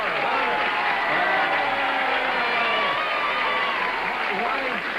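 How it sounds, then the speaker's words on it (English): Studio audience applause for a contestant on a 1975 CBS daytime game show, Tattletales, filling a large room: dense, loud, steady clapping that runs unbroken for the full span and tapers slightly at the end. "Why are the people in the blue section applauding for him?"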